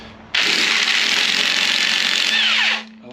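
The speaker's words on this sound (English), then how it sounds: "Electric impact." An electric impact wrench with a 15/16 socket spins off the balancer pulley of a 1970 Ford Falcon engine, one continuous loud whirring burst of about two and a half seconds that winds down at the end.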